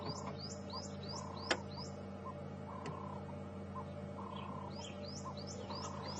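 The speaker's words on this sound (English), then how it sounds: "that's the Birchall's cuckoo calling in the background, signalling the rain is on its way" A Burchell's coucal calls repeatedly in the distance on a morning safari drive at Djuma Game Reserve, its faint bubbling notes set against a steady chorus of insects and other birds.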